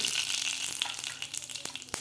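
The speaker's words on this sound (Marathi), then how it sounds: "जिरं आणि मोहरी आपल्याला व्यवस्थित फुलू द्यायची आहे" Mustard and cumin seeds sizzle steadily in hot oil, with sharp little pops and crackles bursting through the hiss.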